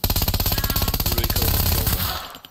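An AK-15 rifle fires on full auto in the survival game Scum, a loud, close, evenly spaced burst of shots at a fast steady rhythm that blurs together and then cuts off, followed by one final crack.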